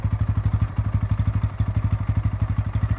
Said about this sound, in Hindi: अब इसका एग्जॉस्ट नोट भी सुन लीजिए